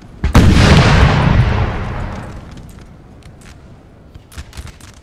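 Artillery fire in a Napoleon: Total War multiplayer battle at Leipzig, one loud booming cannon blast that rolls away over about two seconds, followed by faint scattered distant shots.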